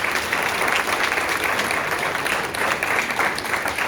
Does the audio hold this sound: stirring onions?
no